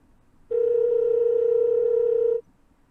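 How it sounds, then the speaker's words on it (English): Telephone tone from a sound effect, one clean steady electronic note of about two seconds, starting and stopping abruptly, alone in a quiet room. "you see that there is like a rotary phone standing on in the edge of the room, and it rings again"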